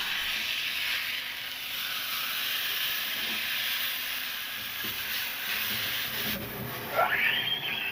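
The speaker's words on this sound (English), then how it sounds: "Grease fire." A grease fire gives off a steady broadband hiss and sizzle at moderate loudness, with a brief rising whine near the end.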